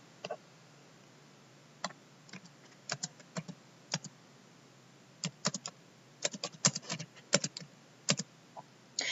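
Typing on a computer keyboard, with scattered bursts of crisp key clicks, some isolated and some in quick runs, close and fairly quiet against a low background hiss.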